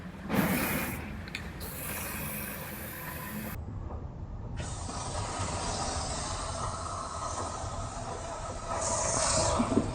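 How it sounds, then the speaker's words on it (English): A continuous pressurized hiss of cavity wax spraying into a car's rocker panel, loud and close, runs throughout with small rattling and mechanical shifts; nobody speaks. "first I'm going to spray cavity wax up in this rocker panel"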